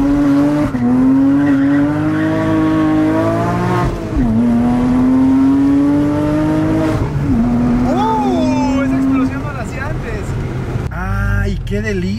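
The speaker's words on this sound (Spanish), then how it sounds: "Creo que nunca se le habían dado unas donas así al Caimaniki." A car, the Caimaniki, spins doughnuts, its engine wailing in long rising and falling revs as tires squeal loudly. A sharper burst of screeching and skidding comes near the end.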